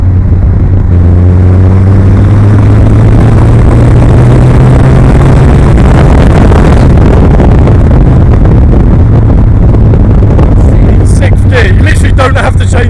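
A 340 BHP turbocharged Mazda MX-5 sportscar accelerates hard in 6th gear, its loud close engine drone rising steadily in pitch throughout with road and wind roar building, no talking over it.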